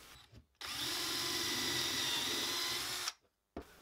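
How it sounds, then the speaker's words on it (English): Steady power drill whine boring a pocket hole through a board with a mini Kreg pocket hole jig, one continuous burst of about two and a half seconds, loud and close, starting and stopping abruptly. "We'll go ahead and drill."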